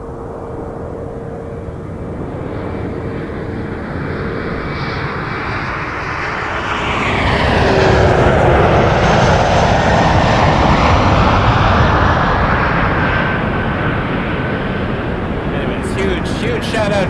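An airliner jet takes off at Toronto Pearson Airport, its engine roar building to a loud, broad rumble at its peak and then easing slightly as the aircraft climbs away, with a voice talking over it.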